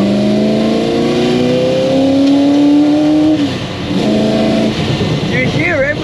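A 1968 Ford GT40 Mk1 race car engine roars loudly up through the revs, its pitch climbing steadily, then dipping at a gear change before rising again, close and continuous.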